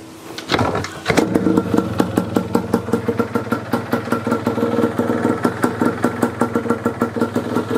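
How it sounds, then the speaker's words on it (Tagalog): A restored Yamaha DT125 air-cooled two-stroke motorcycle engine starts after a brief crank and settles into a steady, close idle with an even popping beat, standard bore and running quietly. "Sobrang tahimik ng makina."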